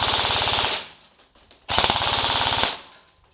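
Airsoft sniper rifle firing full-auto at about 18 rounds a second, two loud rapid buzzing bursts of roughly a second each separated by a brief pause, no talking.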